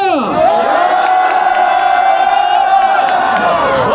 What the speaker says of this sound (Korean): 자 전방을 향해서 함성 3초간 발사!